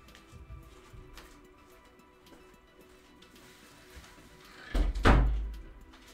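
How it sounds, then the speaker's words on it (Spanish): Faint scuffs and creaks in a quiet room build to a louder thudding clunk as a door swings open near the end, with no speech over it. "Un momentito porque se me ha abierto la puerta."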